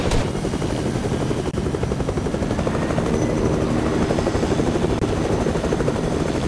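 Helicopter in the video game Fortnite, its rotor and engine drone loud and continuous throughout, dense and steady with a faint rhythmic chop.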